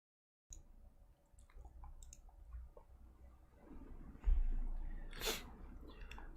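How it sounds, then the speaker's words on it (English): A person blows their nose nearby: a few quiet sniffs and small clicks, then a loud forceful honk and breathy rush that trails off in a room with light background noise. "I do need to blow my nose."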